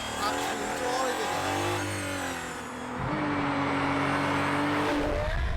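Aston Martin Valkyrie race car screaming past at high speed, a loud engine howl that rises and falls in pitch as it approaches and recedes, then a second pass, with someone talking over it.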